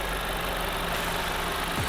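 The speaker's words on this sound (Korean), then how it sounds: "엔진 소리도 일정합니다" An Audi A3 40 TFSI (8V) idles with the engine bay open, producing a steady, even engine drone wrapped in broad hiss that holds constant across the whole stretch, with no talking.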